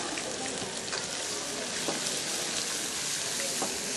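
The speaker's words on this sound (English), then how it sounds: "the fennel, we're going to saute this down a little bit so it gets nice and soft" Fennel sautés in a pan, giving a steady, soft crackling sizzle with scattered pops and light stirring, close and continuous.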